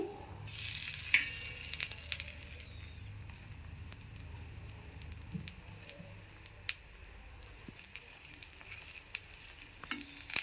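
Butter sizzles steadily in a hot pan while a paneer paratha cooks, a soft continuous frying hiss with scattered small crackles and pops, fairly quiet and with no talking.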